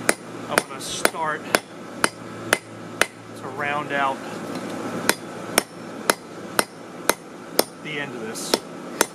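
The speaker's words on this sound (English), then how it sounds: "Now, as I hammer," A blacksmith forges a railroad spike on an anvil to make a corkscrew. About fifteen sharp, ringing hammer blows land in a steady rhythm, and someone talks between some of the strikes.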